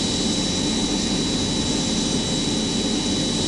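Jet engine of an airliner in a flight simulator roars steadily at takeoff throttle, a loud dense broadband rush with a thin high whine on top, constant and unbroken.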